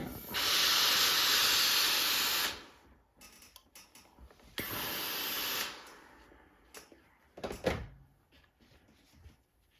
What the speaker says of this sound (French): Et vapeur.